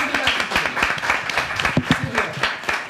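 A studio audience at a TV show claps in a dense, continuous round of applause, close and fairly loud, lasting a few seconds.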